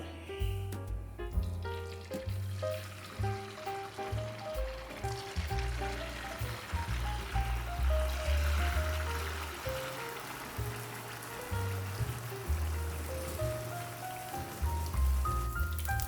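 Instant jalebi batter fries in hot oil in a flat pan, a dense, continuous close-up sizzle like rain on a surface, running beneath a steady melodic music track for the whole stretch.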